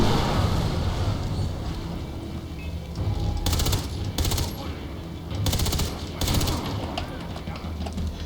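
Sniper gunfire in the video game Far Cry 3: sharp bursts of shots ring out in a few separated clusters over a steady windy outdoor bed of noise.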